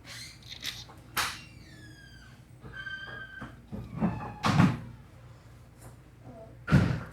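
A 2JZ engine head bolt squeaks as it is tightened during an engine build in a garage, a series of thin stepped squeals between heavy metallic thumps and clanks.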